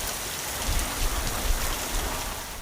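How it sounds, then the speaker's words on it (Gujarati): Steady rain pouring over Saurashtra villages, a dense broadband wash of falling water with low rumbling swells underneath, continuous and close, with no voices. "સતત બીજા દિવસે પણ ગાજવીજ સાથે વરસાદ વરસ્યો છે."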